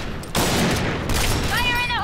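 Sustained automatic gunfire in the online shooter Point Blank, a dense continuous fusillade that starts abruptly and keeps rattling on, with a voice speaking over it near the end.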